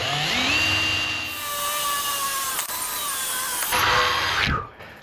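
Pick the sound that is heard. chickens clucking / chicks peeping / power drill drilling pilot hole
power drill drilling pilot hole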